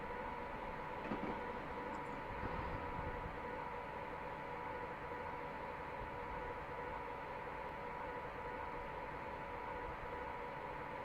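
A Class 89 electric train coasting between Carlisle and Glasgow Central in Train Simulator Classic, a steady rumbling cab drone with a faint whine and light rail noise, constant and unbroken.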